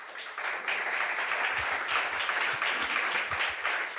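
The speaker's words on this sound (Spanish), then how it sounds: "Dale un aplauso al Señor." A church congregation applauding together, a dense, steady wash of many hands clapping that holds for the whole stretch without voices.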